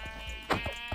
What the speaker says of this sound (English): I'm just killing sheep.